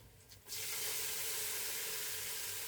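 Garam masala hits a hot pan of beef khichuri: after a quiet half second, a sudden loud sizzle bursts up and continues as a steady, bright frying hiss, close up, with no talking.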